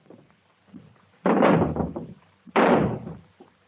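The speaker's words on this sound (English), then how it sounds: "Help me get this door down." A door is battered in an attempt to force it down, with two heavy thudding impacts landing about a second apart, each trailing into rattling knocks, with fainter bumps before them.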